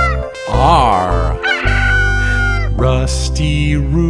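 A rooster crows over bouncy children's alphabet song music, its rising call stretching across the first part before the music carries on.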